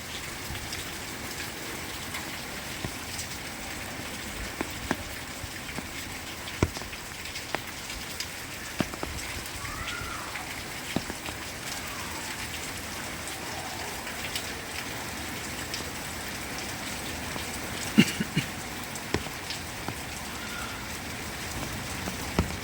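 The season's first rain falls steadily in Shidlaghatta, a soft, even hiss of rainfall broken by scattered sharp drips and taps on nearby surfaces, with no voices.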